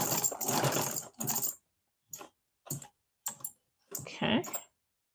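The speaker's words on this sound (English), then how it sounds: "Stitching right on the line." A sewing machine stitches paper-pieced quilt blocks in short separate bursts, close and fairly quiet, each run of rapid ticking stitches stopping after a second or less with silence between.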